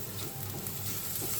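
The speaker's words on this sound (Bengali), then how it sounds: "দেখেন পেঁয়াজ আর কাঁচা ঝালটা আমি সুন্দর করে একটু লাল করে ফ্রাইয়ের মতো করে নিচ্ছি।" Onion and green chili frying in a pan for a Bairagi fish fry, giving a steady close sizzle with soft stirring patter throughout.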